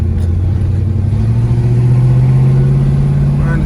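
A 1979 Chevy Impala box Chevy engine drones loud and close while driving late at night, a steady low rumble rising slightly in pitch as it revs.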